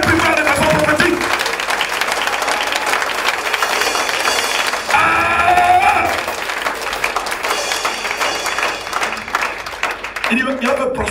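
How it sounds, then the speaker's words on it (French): A church congregation claps loudly and steadily in a dense crowd, under music and a preacher's energetic amplified voice calling out in French. "Bat les mains plus fort de façon prophétique."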